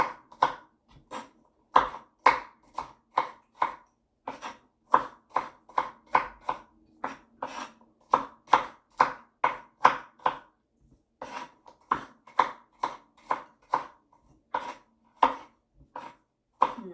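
A bell pepper is chopped with a kitchen knife for American chop suey, a steady series of crisp, close cuts on a board in quick rhythmic bursts with brief pauses, no talking.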